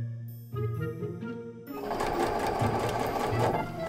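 A sewing machine stitches polyester ribbon down as boning channels on a bodice, starting with a short run of needle clatter, then settling into a faster, louder, steady whirring stitch up close.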